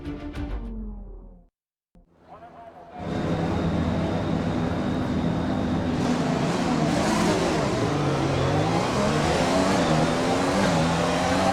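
Formula 1 race car engines in the F1 2020 game revving at the race start, a brief engine note cuts to near silence, then a loud, sustained multi-car roar with rising and falling pitch builds and holds.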